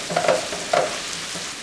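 Vegetables for imam bayildi sizzle and fry in a large flat pan, with two short stirring scrapes over a steady close hiss and no talk.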